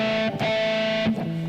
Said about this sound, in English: hooking it up to distortion is the squealies, the pinch harmonics